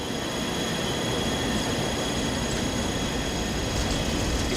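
A jet engine runs at 55% throttle, giving a steady, dense, broadband roar with a faint high whine, unchanging and unbroken throughout.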